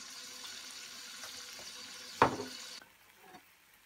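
A brief splashing pour of saffron water lands on rice frying with potatoes in a hot pan, cutting through a steady background sizzle, which then drops quieter.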